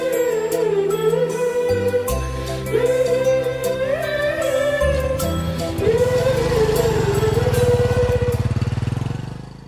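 A motorcycle engine revs loudly and continuously as it rides away in a Telugu film scene, with the pitch rising and falling throughout and no talk.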